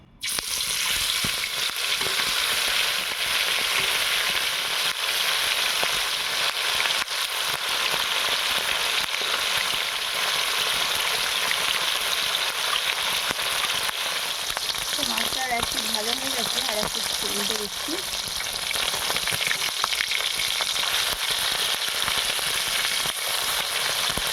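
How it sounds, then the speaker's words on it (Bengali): Small river chanda fish frying in hot oil in a kadai give a steady, dense sizzle throughout, with brief bubbling and spitting near the middle. "তেলটা গরম হয়ে গেছে এবার মাছটা দিয়ে দিচ্ছি"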